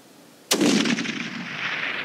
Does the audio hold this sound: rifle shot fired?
yes